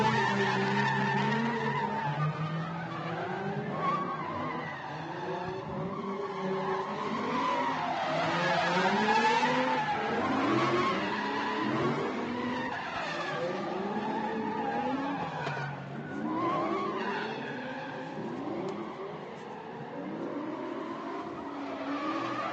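Drift cars skid and rev at a Pro Light drifting competition in Emmett, Idaho, with engines wailing and tires squealing in a continuous loud roar across the whole run.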